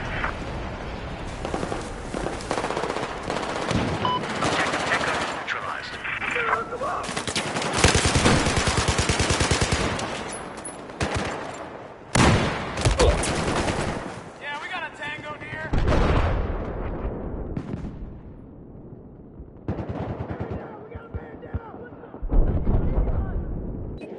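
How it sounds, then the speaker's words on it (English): Heavy machine gun fire and explosions from Battlefield 4 conquest on the Dragon's Teeth map crackle in dense, repeated bursts that rise and fall in loudness, with voices talking over the din. "I've spotted an enemy machine gunner."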